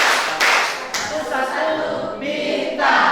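A group in a classroom performs the Pancasila clap, sharp bursts of many hands clapping together in a rhythmic pattern, loud and close, alternating with chanted voices.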